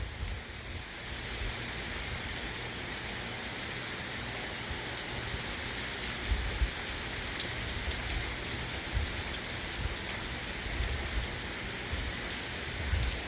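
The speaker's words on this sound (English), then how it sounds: "I'll zoom in on this water here so you can see how hard the rain is coming down." Heavy rain pours steadily onto water, a dense continuous hiss with scattered louder drops and low rumbling, no voices.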